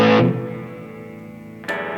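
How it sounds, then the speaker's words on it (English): A Jazzmaster-style electric guitar through aggressive overdrive rings out with a distorted strum that decays, then a second crunchy strum enters near the end, close and alone. "Go to a little more aggressive overdrive."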